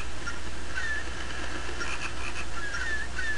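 A frog in The Legend of Zelda: Phantom Hourglass makes faint repeated chirpy croaks and squeaks over a steady hiss of game ambience, with no talking.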